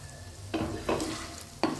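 Cooked chicken mince for a chicken cheese pizza topping being stirred in a pan, with three distinct scraping stir strokes over a low steady sizzle, close and moderately loud.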